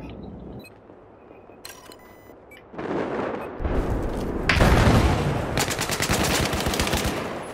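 Mk11 DMR marksman rifle fired in Battlefield 4, sharp repeated shots growing louder and denser partway through, with booming blasts and background battle noise, no talk.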